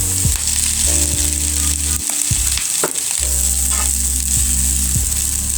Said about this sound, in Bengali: লুডুস আর সবজি কিন্তু আমি একসাথে মিশিয়ে নিচ্ছি।